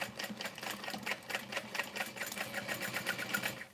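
Sewing machine stitching an Erica Bowler bag by Oro Rosa, running in a steady rapid rhythm of needle strokes throughout, fairly close and continuous with no talk.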